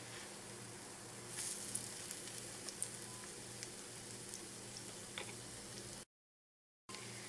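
Steady crackling sizzle of pancake batter frying in a hot pan, a close, continuous hiss with small pops and a brief gap of silence near the end.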